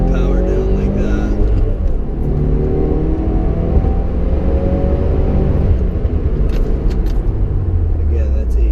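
A 2015 Subaru WRX with all-wheel drive pulls hard at full throttle at night, its engine droning loud and steady from close inside the cabin as the pitch climbs through the run.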